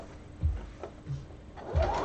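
A sewing machine stitching through bulky fabric runs in short uneven bursts with low mechanical thumps and whirs, fairly close and separated by brief pauses.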